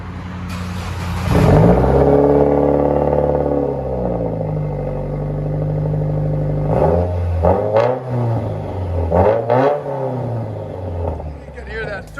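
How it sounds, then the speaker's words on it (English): 2017 Subaru WRX turbo engine with a dual exhaust and Invidia muffler delete, a loud rev that rises and holds, then a deep, rumbling, fluttering exhaust drone, with a voice talking over it near the end. "You can hear that turbo spool up, baby."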